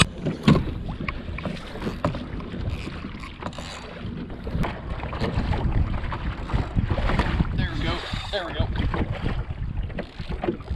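A fishing boat heads out toward a sandbar to troll, its motor and hull slapping through the water under strong wind noise on the microphone, with voices heard over it.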